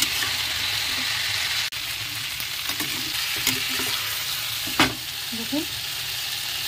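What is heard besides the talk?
eggs frying with spice masala in pan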